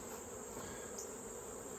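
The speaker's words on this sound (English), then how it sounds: "Those field bees will go back to their original hive" Honey bees mill around a hive while late-summer colonies are being equalized, a faint, steady, continuous buzzing hum with no pauses.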